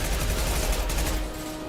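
Sustained volley of gunfire from a gun in the video game Mass Effect 2, dense rapid shots rolling together at steady loudness for most of the moment before easing off near the end.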